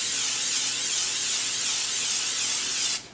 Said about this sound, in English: We are going to go in with the extra virgin olive oil spray first,